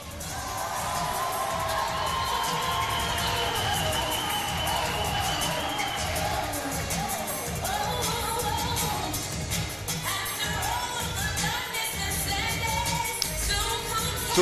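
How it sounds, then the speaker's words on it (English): A crowd applauds, cheers and whoops loudly and without a break before a Singapore v Scotland gold medal match, with shouting voices mixed into the dense, sustained noise. "Please give a big round of applause, make a lot of noise for your gold medal match."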